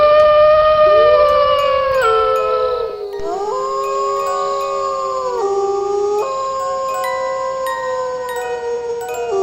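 A werewolf howling sound effect in an audio horror story, several overlapping drawn-out wolf-like howls rising and falling in pitch under a full-moon scene, loud and continuous with no talking.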